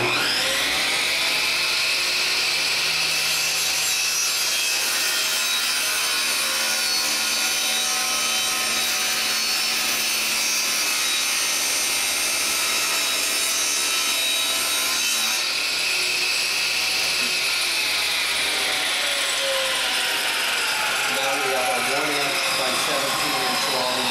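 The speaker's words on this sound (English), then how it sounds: "With our 17-inch long board, we need to rip it down to 1 inch." A power saw rips a 17-inch wooden board down to 1 inch wide for a beehive frame, producing a loud, continuous high-pitched whine and cutting roar across the whole stretch.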